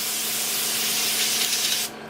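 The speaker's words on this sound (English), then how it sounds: "I usually spray it just to get all the cleaner out." Airbrush sprays a continuous bright airy hiss up close to clear out cleaner, holding steady for nearly two seconds before cutting off abruptly into quiet.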